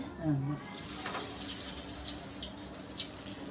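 A running kitchen tap pours water for wetting hands, a steady soft splash close by, with a faint voice in the background and a couple of small clinks.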